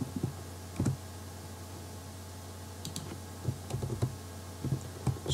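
Code typed on a computer keyboard: scattered, soft, close key clicks in short irregular clusters over a faint steady background hum.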